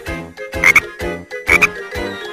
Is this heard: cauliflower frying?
no